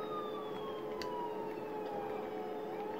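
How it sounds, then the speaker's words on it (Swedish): Ambulance siren in GTA IV on PS3: a steady wailing tone that slowly glides downward, sustained and fairly loud over game traffic noise with no talk. "Ambulans."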